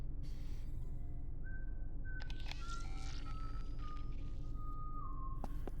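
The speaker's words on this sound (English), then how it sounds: "Sounds like someone's whistling." Whistling drifts through a quiet room in the video game Stasis: Bone Totem, thin gliding tones rising and falling over a low, constant ambient rumble.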